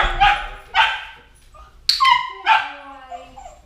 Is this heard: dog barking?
yes